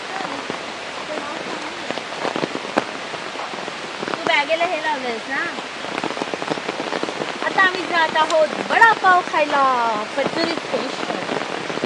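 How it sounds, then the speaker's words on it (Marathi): Steady broadband hiss of heavy rain pouring throughout over farm fields in Konkan, with people talking over it close by. "आता पाऊस भरपूर वाढलाय"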